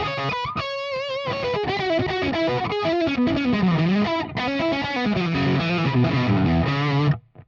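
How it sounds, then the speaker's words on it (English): Electric guitar played through a Nux Trident multi-effect with a gain boost, giving a loud, edgy, mildly distorted tone; a continuous melodic line of single notes and bends rings out alone for about seven seconds. "if you just want a little bit more gain, you have a boost"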